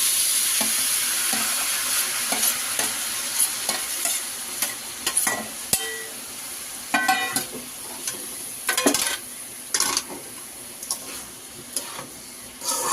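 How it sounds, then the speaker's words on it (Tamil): Tomato and coriander being sautéed in a pan for fish sambar, with steady stirring, scraping and clinks of a spoon against the pan over a soft continuous sizzle, close and moderately loud, with no talking. "இப்போ தக்காளி போட்டு இப்போ கொத்தமல்லி போட்டு நல்லா வதக்கிடலாம்."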